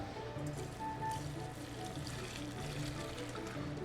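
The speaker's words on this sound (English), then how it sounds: "now we pour the mixture back into the pan" Thin crème brûlée custard mixture, milk-like in consistency, is poured from a vessel back into a pan, a soft continuous trickle and gentle splashing heard close and fairly quiet.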